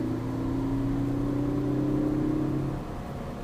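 A hot hatch engine, either a Ford Focus ST, Mazdaspeed 3 or Volkswagen GTI, holds a steady, growly mid-pitched drone that rises slightly before easing off, close and continuous with no talk.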